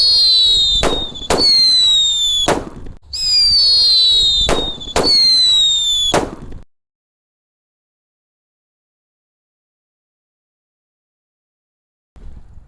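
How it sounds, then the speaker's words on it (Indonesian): Three paper-wrapped firecrackers go off during Lebaran 2024 celebrations with a string of sharp, loud, close bangs and crackles over about six seconds, then near silence. "3 sekaligus mercon buntelan kertas berhasil menyala"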